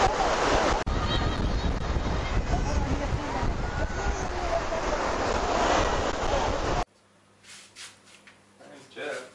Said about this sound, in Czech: Fouká tak silný vítr, že příjemně ochlazuje.